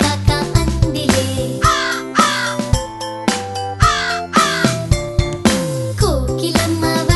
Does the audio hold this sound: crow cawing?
yes